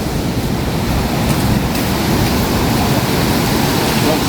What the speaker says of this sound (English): Lots of waves down.